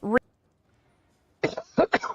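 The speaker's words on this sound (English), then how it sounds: "I just coughed right into the camera." A single short cough right at the start, close and sharp, followed by a pause and then a voice talking.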